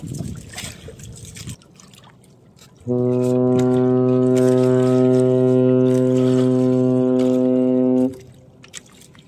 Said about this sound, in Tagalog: Busina yung barka idol dahil sa sobrang dami ng bangka